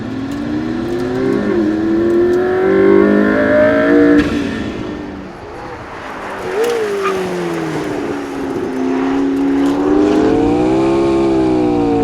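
McLaren P1 hypercar in race mode accelerating hard on a track, engine note climbing and falling through several gear changes, loud and close, with a brief lift-off midway before it pulls again.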